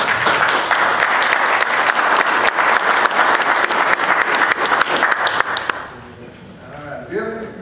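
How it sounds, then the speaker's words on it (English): A room at a Carter County Commission meeting breaks into loud sustained applause for several seconds, then it dies away and a voice begins speaking. "And I'd like to applaud you and all these people for their efforts."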